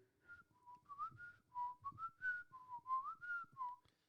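Someone whistles a simple melody alone, a string of clear, wavering notes rising and falling at a relaxed pace, close and fairly soft.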